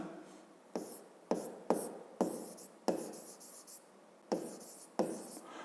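Pen or chalk writing out a short math problem statement, a series of about eight separate scratchy strokes with brief pauses between them, close and fairly quiet with no talking.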